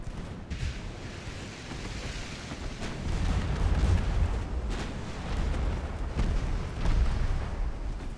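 Naval gunfire in the naval warfare game Ultimate Admiral Dreadnoughts during a battle for Singapore, with heavy, continuous booming and rumbling salvos layered over one another, loud and sustained throughout with several sharper bursts.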